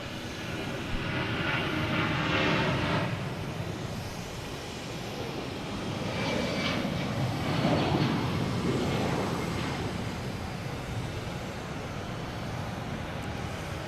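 A Delta Boeing 757 jet airliner departs Boston Logan Airport with a broad, steady roar, swelling moderately and then easing, heard from some distance over a constant background hum.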